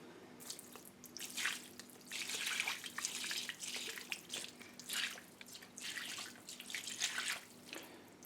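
Water poured from a pot splashes and drains across a pre-sloped shower floor, coming in uneven gushes and trickles with brief pauses, close and fairly quiet, with no talking.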